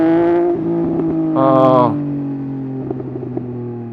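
A sportbike engine hums at a steady pitch, then revs sharply for about half a second before settling back to a smooth, close drone, with faint voices underneath.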